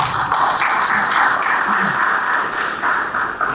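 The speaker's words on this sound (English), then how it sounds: "I believe it deserves a round of applause" A press-conference audience gives a round of applause. The clapping is steady and fairly loud, with a broad wash of sound that continues at an even level throughout.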